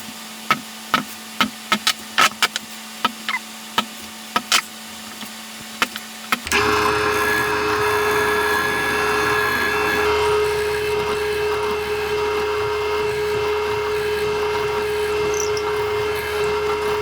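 Marked holes being drilled in wood for an out-feed and assembly table: a string of sharp knocks first, then a power drill whines steadily and loudly for about ten seconds, close by with no talking.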